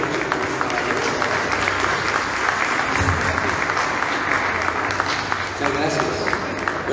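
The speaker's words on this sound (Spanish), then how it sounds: "Aplausos." Audience at a book launch on democracy in Colombia applauding, a dense sustained clapping that holds steady across the stretch with a slight lift near the end, with a voice and crowd murmur mixed underneath.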